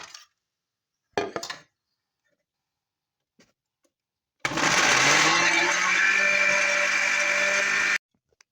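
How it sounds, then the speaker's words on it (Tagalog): A kitchen blender grinds tomatoes, onions, garlic and oregano in one loud, steady whirring run of about three and a half seconds, preceded by a few brief clinks and taps. "So this is already I grind tomatoes, onions, garlics, and oregano"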